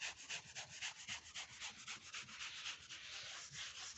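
Paint being rubbed into a surface by hand, a quiet rhythmic scraping and rubbing repeated in quick regular strokes, close and alone.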